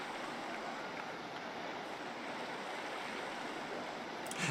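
Steady rushing roar of water as a water ride passes through waterfalls in RollerCoaster Tycoon 2, a continuous even wash of splashing noise without speech, swelling slightly at the end.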